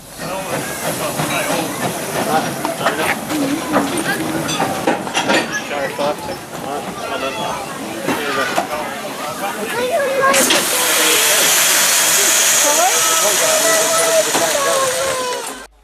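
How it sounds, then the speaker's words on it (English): A Hunslet 0-4-0 steam tank locomotive chuffs and clanks as it pulls slowly into Becconsall Station on the West Lancashire Light Railway, then a loud sustained hiss of venting steam takes over. "Irish Mail is pulling in its train to Becconsall Station."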